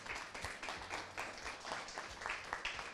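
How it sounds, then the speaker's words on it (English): Audience at an entrepreneurship accelerator's final presentations applauding the mentors, a fairly quiet, steady patter of many hands with a few louder individual claps standing out, with no talk over it. "We're giving you a round of applause now, too."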